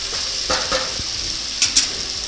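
Chopped tomatoes sizzle in a pan for dum aloo, a constant hissing fry broken by several stirring scrapes and clinks, loud and close with no voices.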